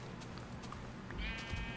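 A sheep bleating in a Minecraft-style video game, a short wavering bleat rising at the end over quiet background game sound.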